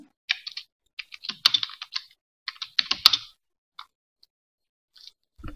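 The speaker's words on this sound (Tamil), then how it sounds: "இப்போ நான் இங்கே இங்கிலீஷ் ஃபாண்ட்டு சேஞ்ச் பண்ணிவிட்டு இங்கிலீஷில் டைப் பண்ணுறேன்." Keys clatter on a computer keyboard in irregular bursts of quick taps separated by short pauses, close and clear in a quiet room, with no voices.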